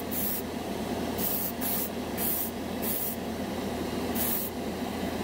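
A cheap $14 dual-action airbrush sprays flat primer in short hissing bursts, about six spurts with brief pauses, close and steady against a constant background hum.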